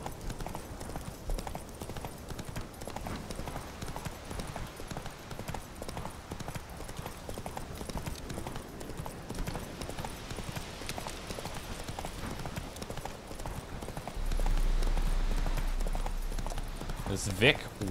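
Horse hooves clip-clopping in The Witcher 3: Hearts of Stone, a steady rhythmic gait over background game ambience, with a louder low swell near the end.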